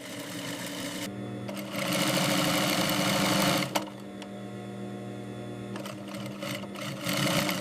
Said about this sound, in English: Expert seamstresses and high-speed automated sewing machines bring the garments to